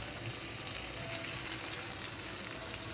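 Fried okra sizzles steadily in a meat curry as it goes into the pan, a close, continuous frying hiss with no voices.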